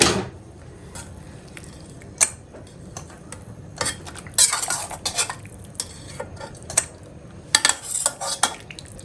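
A spatula scrapes and taps a pan as chicken liver cooks with onion, producing repeated clattering stirs and clinks in irregular bursts, close and fairly loud.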